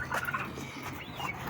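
Several farm turkeys gobble nearby, mixed with other soft bird chatter in a shed where the birds are feeding, the calls moderately loud and steady over about a second and a half.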